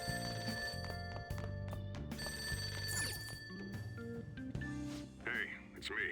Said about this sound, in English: That ringing isn't coming from my cell phone. I hear it coming from downstairs.